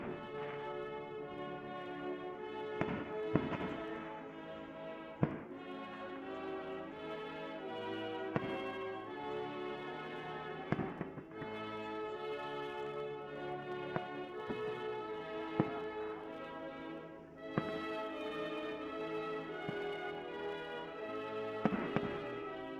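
Fireworks at night during a summer staycation, distant booms and sharp cracks scattered irregularly over a long dense wash of sound, faint and far away.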